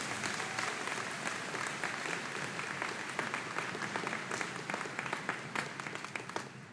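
Sustained applause from a large commencement audience honoring 4.0 grade-point graduates at a high school ceremony, steady dense clapping throughout with a slight taper near the end.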